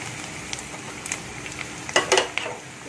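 Spices stirred into browned, salted onions frying in a pan, a soft steady sizzle with a few scraping stirs and light utensil clinks near the end, close up with no voices.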